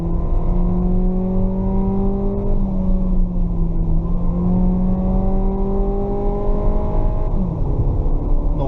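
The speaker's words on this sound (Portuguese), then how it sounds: "Vamos dar uma acelerada no carro, vamos ver como ele se comporta." A 2020 Volkswagen Virtus GTS accelerates hard through the gears, its engine note climbing steadily in pitch, dipping at each upshift and climbing again, loud and close from inside the cabin with no talking.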